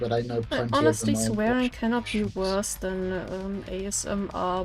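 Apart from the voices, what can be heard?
No everyday noise stands out behind the speech.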